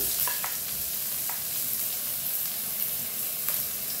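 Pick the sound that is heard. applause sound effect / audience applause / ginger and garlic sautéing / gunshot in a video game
ginger and garlic sautéing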